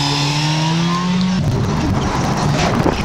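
A car engine revs up with a rising whine, then gives way to rough, roaring rumble as it pulls away, loud and close, no talking.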